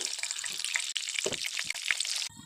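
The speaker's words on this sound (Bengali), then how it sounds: "দিয়ে দেবো তেলের মধ্যে, দিয়ে ভালো করে ভেজে নেব।" Whole spices, bay leaves, cinnamon, cloves and cardamom, fry in oil with a bright, crackling sizzle, close and busy, dotted with small pops before it suddenly drops away.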